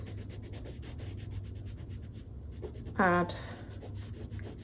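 Loose, scratchy colouring strokes scrape quickly and continuously across a sketchbook page, close and clear, with one short spoken word partway through.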